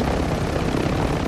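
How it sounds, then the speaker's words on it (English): A video game helicopter roars steadily and loudly throughout, a dense continuous rotor and engine wash with no talk over it. "I'm gonna destroy the chopper."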